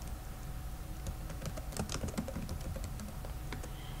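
Quick, light keystrokes on a computer keyboard while data is entered into a database table come as a faint, irregular patter of clicks over a steady background hiss.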